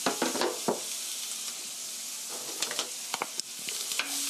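Chopped onion and garlic stir-fry in a tablespoon of grapeseed oil, a steady broadband sizzle with scattered spatula scrapes and clicks against the pan, close and alone.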